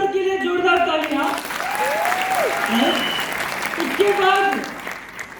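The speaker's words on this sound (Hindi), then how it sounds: "ऐसे अपने आलोक पांडे सर के लिए जोरदार तालियां।" Applause rises from an audience at a motivational business event in Bhopal, mixed with a loud amplified announcer's voice speaking over the clapping and what sounds like music or cheering in the background.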